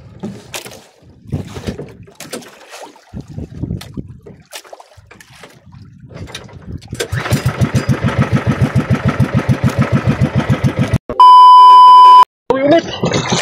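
A motorized engine fires up and settles into a steady, loud rhythmic chugging, with a sustained electronic beep partway through and scattered voices before the engine catches.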